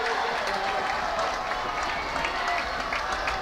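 A football crowd cheering in the stands during a game, a steady, moderately distant roar of voices and clapping with a commentator talking over it.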